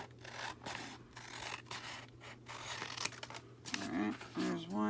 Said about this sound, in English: We're just going to cut them out together.